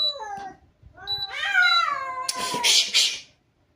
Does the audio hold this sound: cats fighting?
yes